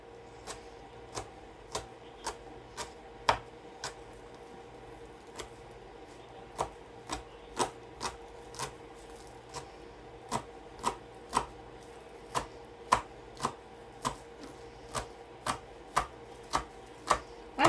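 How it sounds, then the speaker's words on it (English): Onions being chopped with a knife on a cutting board, a steady run of sharp, close knocks roughly once or twice a second with no talking. "So I am going to cut these up. That way I'm using onions that my boyfriend brought me."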